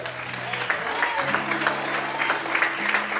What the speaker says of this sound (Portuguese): Você pode aplaudir o Senhor essa noite.